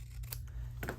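Scissors trimming paper on a handmade card, a few quick, soft snips close by in a quiet room.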